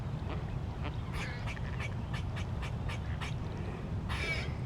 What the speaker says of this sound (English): There's some male mallards, and the Muscovy, of course.